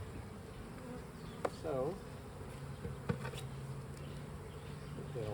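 Honey bees buzz steadily around an open hive while it is inspected and split, a dense, continuous drone close by, with a few faint knocks and a man's brief word.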